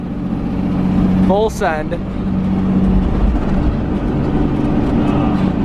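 A restored project car's engine drones steadily from inside the cabin while cruising at about 35 miles per hour, a low constant rumble with road noise, briefly interrupted by a short spoken phrase.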